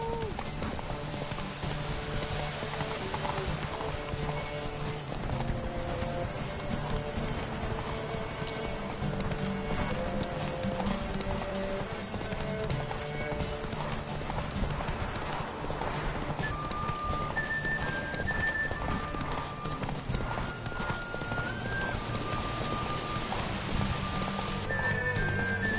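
Hooves clip-clop steadily as a horse gallops in The Witcher 3, with a constant pattering like rain and game music tones layered over the whole long stretch.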